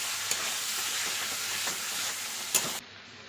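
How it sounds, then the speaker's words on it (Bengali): Potatoes being stirred and fried with Kashmiri chilli powder and spices in a pan, a steady close sizzle with a couple of sharp spatula scrapes, cutting off near the end. "এবার মশলাগুলোর সঙ্গে ভালো করে আমি আলুটাকে কষিয়ে নেব।"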